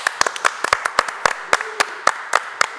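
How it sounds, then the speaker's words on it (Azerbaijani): An audience claps to welcome a guest onto a television show. The applause is a brisk patter of individual hand claps, close and fairly loud, lasting a few seconds. "Birinci qonağımız bu günləri sizin alqışlarınız sədası altında gələcək"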